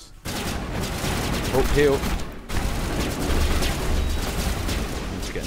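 Automated turret gunfire in the Mass Effect Legendary Edition Luna mission, a dense rattling barrage of shots that cuts out briefly and resumes, with a player's voice speaking over it.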